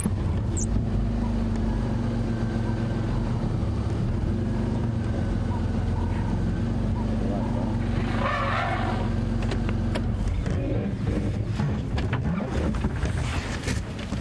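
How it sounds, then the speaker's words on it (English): A car drives through the bush of Kruger Park, its low, steady engine rumble continuous and fairly loud throughout, with wind noise and faint outdoor sounds mixed in. "See, the sound of a car is almost challenging to elephants."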